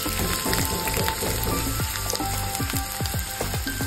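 Chopped onions fry in oil in a kadai with a loud, close sizzle, dotted with sharp crackles and pops that run without a break.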